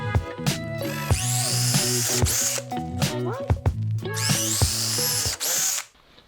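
A power drill whines at close range in two long bursts drilling holes in wood, revving up and winding down between them, with brief clicks in the pauses.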